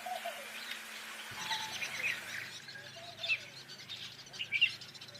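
Weaver birds call around a huge communal nest in the African wild, several high chirps and tweets rising over a quiet hum, some calls brief and sharp, others fainter in the background.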